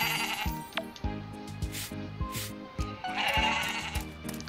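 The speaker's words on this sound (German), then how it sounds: "das ist meine kleine Ziege da." A goat in the farming video game Story of Seasons: Pioneers of Olive Town bleats several times over steady game music with a regular beat.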